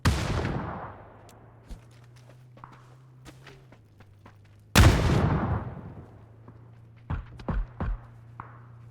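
Gunfire from an enemy in a video game shooter, with one sharp loud burst near the start and another around the middle, separated by quieter ticks and a low hum, followed by a short cluster of closer cracks near the end.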